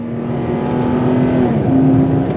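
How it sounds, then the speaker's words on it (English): Holden Commodore V8 revving through rev-matched downshifts, a steady engine drone with a brief blip and pitch change midway, loud and close with no talk over it. "The downshifts are excellent. Look at that, perfectly rev matches."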